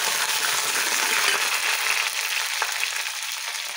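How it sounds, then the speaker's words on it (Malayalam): Curry leaves frying in hot oil with onions as the base for a fish curry, a steady, close sizzle crackling without a break. "കറിവേപ്പില മൂക്കട്ടെ."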